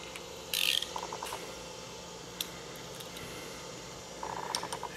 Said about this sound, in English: Now the ratchet.